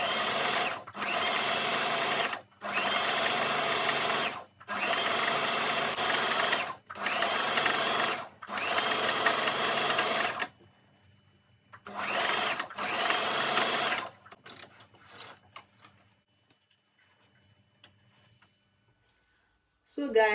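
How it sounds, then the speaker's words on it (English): A sewing machine stitches crinoline to tulle mesh fabric in several long whirring runs broken by brief pauses, followed by a few short bursts and then quiet, with speech in places. "I'm done stitching the crinoline together with the tulle mesh fabric"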